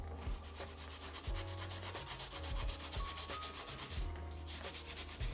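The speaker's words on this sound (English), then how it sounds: "with like one of these little barbecue sponges is try and get most of the rust off" A small barbecue sponge scrubs rust off the iron of an antique toothing plane, a continuous rhythmic rasping rub with repeated strokes, close and loud, with no talking.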